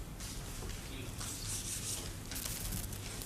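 Writing being rubbed off a board during a mental-arithmetic demonstration, heard as a steady, close scratchy rubbing that continues without pause for a few seconds.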